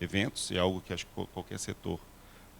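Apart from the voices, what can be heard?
No everyday noise stands out behind the speech.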